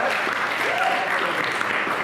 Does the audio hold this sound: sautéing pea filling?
no